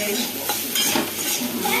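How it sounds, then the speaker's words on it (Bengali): Bitter gourd fries in a pan while being stirred, a brief burst of close sizzling mixed with light scraping and clinks of the utensil against the pan. "উচ্ছে ভাজা বসিয়েছি, এটা হয়ে যাবে আর একটু পরে।"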